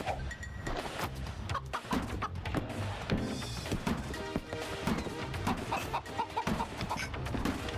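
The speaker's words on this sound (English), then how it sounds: "we have our friend the chicken following us around" A chicken clucks repeatedly in the video game Moving Out, its short clucks mixed into a busy wash of game music and clattering effects that continues throughout.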